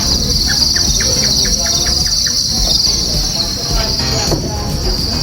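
Crickets on a cricket farm chirp in a dense, shrill, continuous high trill, with a short run of evenly spaced clicks early on and a rumbling background beneath.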